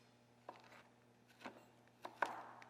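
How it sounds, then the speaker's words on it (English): Knife cutting raw chicken into bite-sized pieces on a board, four soft, sparse chops spread across a few seconds against a quiet background hum, the last a little sharper. "I'm just going to sort of slice it in more or less bite-sized pieces"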